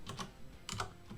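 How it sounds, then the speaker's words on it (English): Keys tapped on a computer keyboard during a game of Europa Universalis IV, a few quick clusters of soft clicks, close and quiet, with short pauses between them. "Typing is tough"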